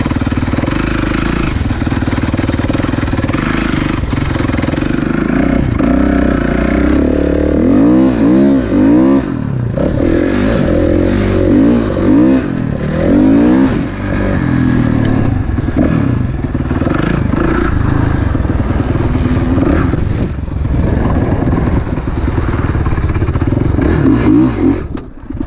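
A motocross motorcycle rides a dirt crossbana track at Kroksvik near Kristinehamn, its engine loud and close throughout with repeated revving surges, gear changes and rough clattering over bumps, continuous for the whole stretch.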